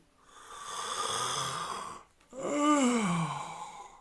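A person imitates a long, drawn-out yawn in two breathy, groaning phases, with a brief pause between them, close and fairly loud.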